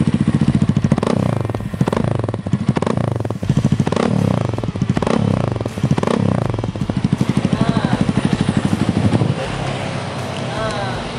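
A Kawasaki KLX 230 SM SE with a full racing exhaust system is revved hard and repeatedly up close, each loud rising blip falling back between pulls, with brief mechanical clatter.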